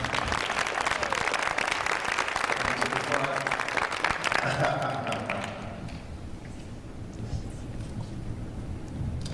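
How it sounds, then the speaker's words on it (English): Audience applause at a public forum during a live community evening news broadcast, a steady wash of clapping for about five seconds that thins out and fades into quieter room noise. "All right, y'all give them a great big round of applause."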